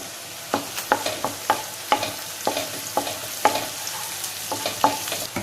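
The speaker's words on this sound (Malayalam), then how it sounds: "ഇത് നമുക്ക് നന്നായിട്ടൊന്ന് മിക്സ് ചെയ്ത് കൊടുക്കാം" Chembu and jackfruit seed mixture with chili flakes stirred in a hot pan, a spoon scraping in a steady rhythm of clear strokes over a soft sizzle, no voices.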